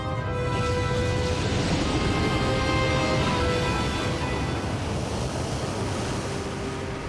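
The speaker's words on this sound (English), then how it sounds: "The waves are still almost as massive as when they began" Massive ocean waves surging in a continuous broad roar of surf with wind noise, steady and fairly loud throughout, with no voices.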